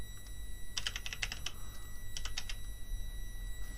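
Quiet clicking of a computer keyboard as a search term is typed, two short bursts of quick keystrokes over a low steady hum.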